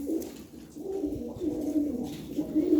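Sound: pigeon breathing heavily

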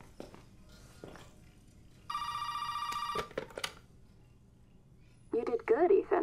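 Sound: telephone ringing in video game Resident Evil 7

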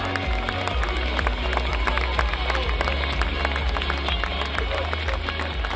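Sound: applause

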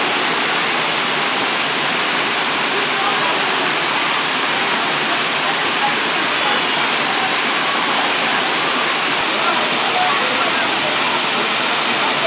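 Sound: waterfall at Deep Creek

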